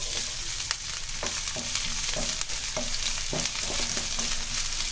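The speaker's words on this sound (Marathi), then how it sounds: "तेल गरम झालं की आपण जे कांदे घेतले ते घालतोय." Chopped onions hit hot oil in a kadhai over high flame, giving a steady, fairly loud frying hiss with scattered stirring scrapes and clicks throughout, no voices.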